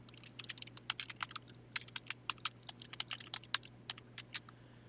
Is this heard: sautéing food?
no